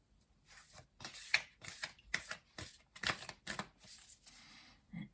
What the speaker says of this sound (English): So I'm just starting to shuffle here